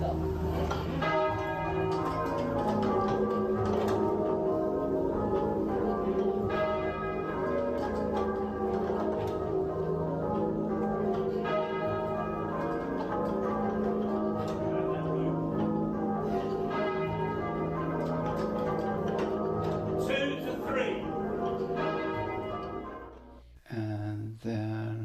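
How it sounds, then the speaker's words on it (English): Church bells toll in a dense, continuous ringing peal marking the death of Queen Elizabeth, with rich overlapping tones sustained loudly throughout before cutting off near the end. "we've got using bells for the death of Queen Elizabeth"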